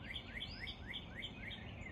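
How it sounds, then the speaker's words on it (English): Small birds chirp and sing in a spring woodland near a blooming dogwood, a bright repeating call sounding about seven times in steady rhythm over a soft, constant outdoor background hiss. "Listen to those birds."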